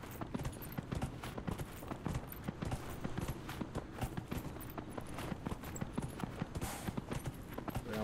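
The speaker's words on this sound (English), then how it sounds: "Go, go, go, horse." Horse hooves gallop in steady, rapid clip-clop in the video game Dragon Age Inquisition, loud and continuous over a busy background of ambient game sound.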